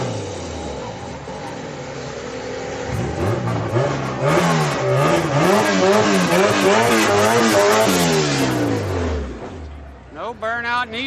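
A Honda Civic's engine revs hard at a street car night, the pitch climbing and dropping in repeated sweeps, loud and close, then easing off to idle; a crowd's chatter sits faintly underneath.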